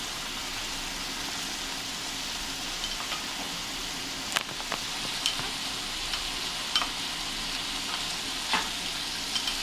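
Green peas being stirred into tomatoes frying over low heat in a pan for Nigerian fried yam and egg, a soft continuous sizzle with scattered light spoon clicks and scrapes, no voices.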